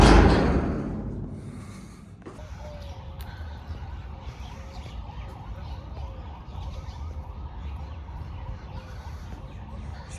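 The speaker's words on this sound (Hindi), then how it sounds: "जैसे अभी एम्बुलेंस निकल रही है यहाँ साइड में से बाहर से, इतनी तेज़ उसका वो सायरन बज रहा है" A loud ambulance siren sweeps past on a road beside a park at first, then fades into the distance, leaving steady road traffic rumble behind.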